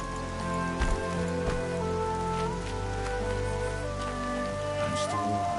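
Steady rain falls in the video game Horizon Zero Dawn, a dense, continuous hiss of drops on surfaces with faint tonal game sounds beneath it.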